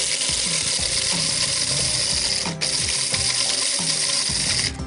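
A grinder crushes roasted coffee beans with dry ginger, making a loud, steady mechanical grinding with a continuous rattling churn and repeated clicking pulses throughout, and no voices.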